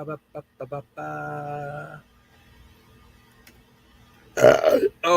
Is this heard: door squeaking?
no